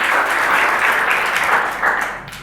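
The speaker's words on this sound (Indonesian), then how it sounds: "Beri tepuk tangan dulu ya untuk Ulan." A classroom of students claps together, a dense, steady wash of applause that fades slightly toward the end.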